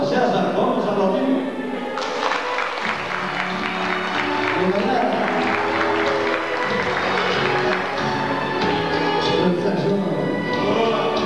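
An audience at a 1997 televised singing program in Santa Bárbara applauds a singer being introduced, clapping steadily under music and voices for several seconds.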